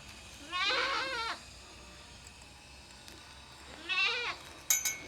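A goat bleats twice outdoors in a grassy field, each call a wavering, drawn-out cry of about a second, separated by a few seconds of quiet ambience; the second call is followed by a short clatter.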